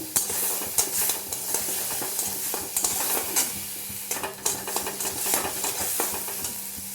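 Soyabean chop filling frying in mustard oil, a loud close sizzle with repeated rhythmic spatula scrapes and clinks against the pan throughout, no voices.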